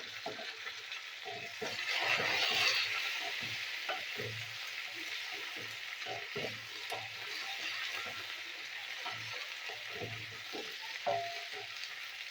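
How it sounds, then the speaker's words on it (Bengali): Beans and eggplant fry in hot oil while being stirred, a steady close sizzle broken by scraping stirs of the pan, with no talking. "এবার দিয়ে দেবো শিম আর বেগুন, তেলে নাড়াচাড়া করে নেবো।"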